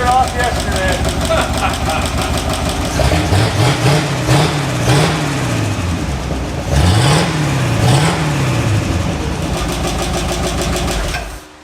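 An abandoned Buick V8 that sat for over 40 years runs smoothly and evenly up close, its steady idle rising into repeated revs and settling back, with voices talking over it.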